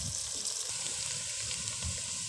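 Washed chicken hits browned masala in a frying pan for chicken karahi, producing a steady close-up sizzle with soft stirring and bubbling textures throughout and no voices.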